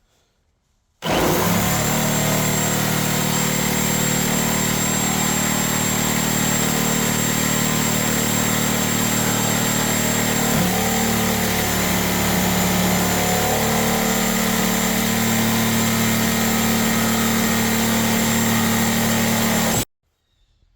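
A reciprocating saw fitted with a DeWalt demolition blade cuts through a plain 2x4, a loud, steady buzzing drone that starts abruptly, runs continuously for about nineteen seconds with a slight shift partway through, then stops sharply, close up and without talk.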